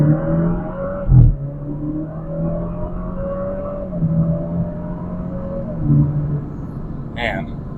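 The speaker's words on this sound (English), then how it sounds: "Let's see if I can do a boosted launch." A tuned Alfa Romeo Giulia revs for a boosted launch, its engine note rising and holding in a steady rumbling drone heard from inside the car, with brief bumps and thumps.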